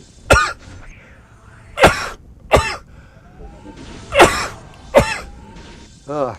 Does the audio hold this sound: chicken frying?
no